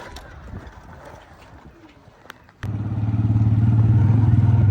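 After a quiet opening with faint background clatter, a motorcycle engine kicks in and drones steadily and loudly up close while riding on a hot day, with no talking.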